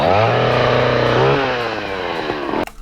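Chainsaw engine roaring loud and close, its pitch wavering and dropping as it revs down, then cutting off abruptly near the end.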